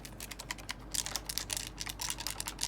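A faulty Razer computer mouse gives quick, faint clicks in rapid irregular bursts, close to the microphone, with no talk.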